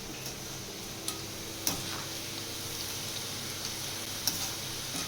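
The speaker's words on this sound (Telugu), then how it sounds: "మొత్తం ఈ రకంగా నూనెలో వేయించుతుంది." Bitter gourd (kakarakaya) frying in oil in a home kitchen, a steady soft sizzle with a few faint ticks and taps from the pan, close and without voices.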